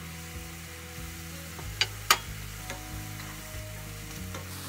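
Mushrooms, nettles and mixed berries cooking down in a pan, a low steady simmering sizzle with a couple of sharp clinks of a utensil against the pan.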